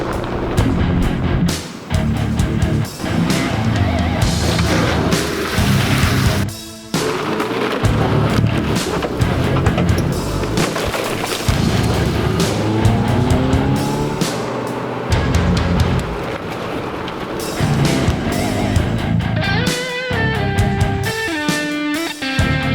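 A Subaru Forester drives along the road, its engine and road noise a continuous loud rumble with bumps and thuds throughout, close inside the cabin, with no talking.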